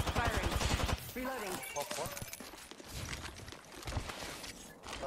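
Gunfire in Apex Legends plays as rapid bursts of shots and impacts over game noise, with a player talking over part of the action.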